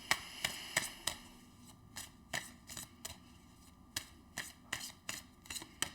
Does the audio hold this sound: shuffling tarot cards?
yes